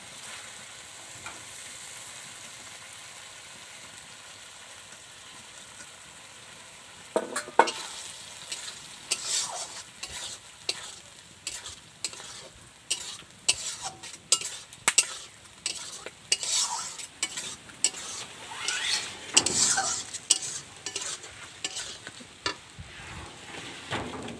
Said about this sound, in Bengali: মাছগুলো একসাথে মশলার সাথে মিশে গেছে আর ভাজাও হয়ে গেছে